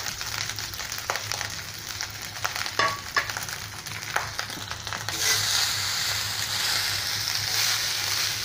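Basmati rice and boiled noodles tossed into a hot pan for veg Schezwan fried rice, a steady sizzle with scraping stirs and clatters, then a louder continuous frying hiss, close and without talk.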